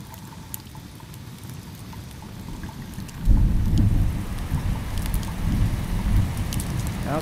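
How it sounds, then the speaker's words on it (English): Steady rain patters throughout, then a deep roll of thunder swells in and rumbles on beneath the downpour. "the old rain started falling again, and Herman could hear the thunder rolling"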